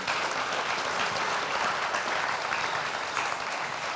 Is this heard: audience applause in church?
yes